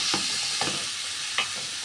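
Liver frying with a spoonful of garlic and harissa chili paste, a constant dense sizzle close up, broken by three short scraping stirs of a utensil against the pan.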